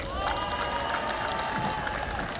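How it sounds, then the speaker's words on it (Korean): A crowd at an outdoor Seoul rally applauds and cheers after a protest speech, the sound steady and somewhat distant, with scattered shouts in the mix. "박수 한번 주시는 거 아닙니까?"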